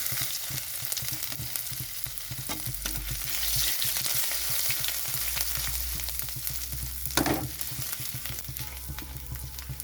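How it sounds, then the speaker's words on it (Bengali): Ginger, bay leaf and radhuni seeds fry in hot oil with a continuous dense sizzle, broken by light clicks of stirring and one sharper spatter, steady and close throughout. "আদাটা একটু ভাজা ভাজা হলে সবজিটা দিয়ে দেবো।"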